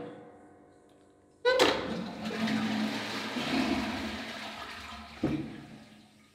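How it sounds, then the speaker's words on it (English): A toilet in a hobbit-style house flushes with a sudden loud rush of water that churns for several seconds. A sharp knock near the end comes before the flow tails off, in a quiet room. "the flush."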